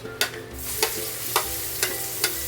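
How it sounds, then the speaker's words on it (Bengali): Sliced onions fry in oil with garam masala in a pan for a stuffed pointed-gourd dish, a continuous soft sizzle broken by five evenly spaced scraping stirs of a spatula; no talking. "পেঁয়াজটা ব্রাউন করে প্রথমে ভেজে নেবো ভালো করে"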